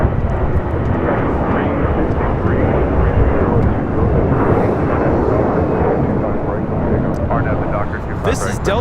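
A Cessna Citation XLS business jet arriving, a loud, steady broadband engine roar that holds without letup from start to finish.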